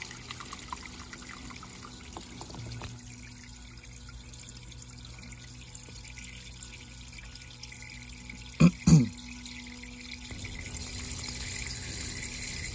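Water drains steadily from a boat engine being winterized, a faint continuous trickle broken by a couple of brief knocks midway.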